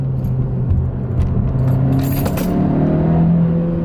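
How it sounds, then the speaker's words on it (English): Keys jingle and rattle intermittently inside a moving Honda Civic Si as it accelerates, over a steady engine hum that rises slightly toward the end. "those are my keys flying around because the G-forces."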